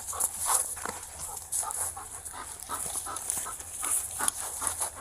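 A police K9 searching a shed, with the dog's quick panting, sniffing and scrabbling footfalls moving about at close range in uneven bursts and no speech.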